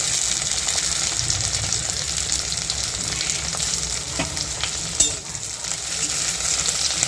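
Chopped tomato and potatoes frying in a pan give a dense, continuous sizzle up close, with a couple of faint utensil taps partway through and no voices.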